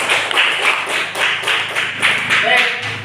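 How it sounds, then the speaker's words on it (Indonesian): A small audience at a university teaching-performance exam session in a classroom gives a short round of applause, sounding as loose, uneven bursts of claps with a faint voice underneath. "Kita berikan tepuk tangan yang meriah."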